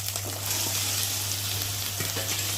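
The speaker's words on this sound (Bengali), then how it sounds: "তো দেখো ভাজা হয়ে গেছে মশলাটা আর এখন আমি চিকেনটাকে ঢেলে দেবো" Chicken poured into a pan of frying spice paste gives a steady, close sizzle of hot oil throughout, with a low constant hum underneath and a few soft clinks near the end.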